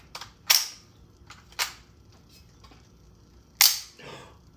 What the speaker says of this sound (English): A functional bolt catch.